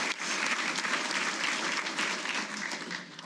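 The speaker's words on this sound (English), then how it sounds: "One more round of applause, please." An audience at a Hall of Fame induction ceremony applauds, steady dense clapping from a large crowd, loud and sustained throughout before easing slightly at the end.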